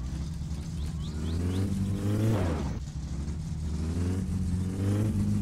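Car engine in the video game My Summer Car revving with sluggish throttle response, mid-pitched engine drone rising and falling in uneven surges, one sharper rev swelling then dropping off, with no talk.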